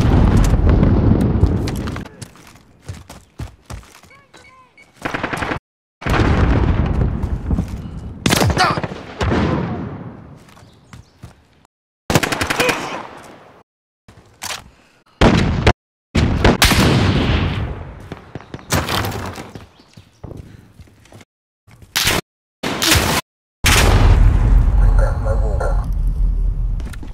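Repeated bursts of gunfire from a gun in a Call of Duty video game, loud and reverberant, firing in uneven volleys separated by short silent gaps over nearly half a minute, with speech mixed in.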